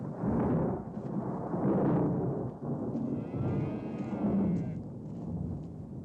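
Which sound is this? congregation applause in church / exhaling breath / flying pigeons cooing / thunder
thunder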